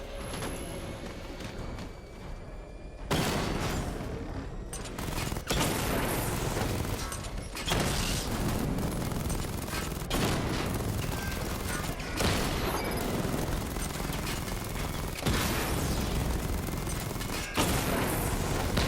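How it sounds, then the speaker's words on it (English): Missile barrage in Batman: Arkham Knight, loud repeated bursts of launches and explosions in several long waves separated by short gaps, with mechanical whirring between salvos. "Charge the missile barrage to level 2 to destroy up to 4 targets at once."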